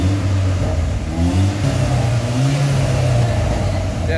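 A car revs through a custom valved cat-back exhaust with huge tailpipes and the valves shut, giving a loud, steady engine drone with rising and falling pitch sweeps throughout.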